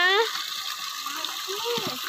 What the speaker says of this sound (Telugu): కుళాయి కూడా ఆపకుండా అట్నే ఉంచేసింది